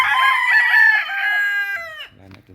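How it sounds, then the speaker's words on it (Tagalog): A rooster crows once in a backyard, a long bright call held for about two seconds, followed by a few short clucks. "Mga manok guys ito"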